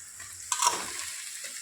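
Chopped capsicum pieces dropped into a hot pan, a brief burst of sizzling that quickly settles into a soft, steady frying hiss.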